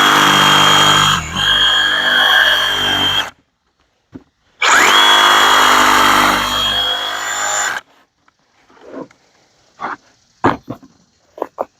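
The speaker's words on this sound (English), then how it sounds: "So I'm going to use the old trusty dusty Sawzall" A Sawzall reciprocating saw cuts a piece off a 3D archery target in two loud, sustained buzzing bursts, each about three seconds long. Scattered clunks and knocks follow after the cutting stops.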